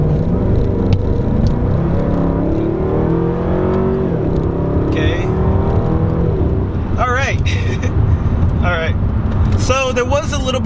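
A 2011 Jaguar XKR with a supercharged engine accelerates along a straight road, its engine droning and rising steadily from inside the cabin while someone talks over it.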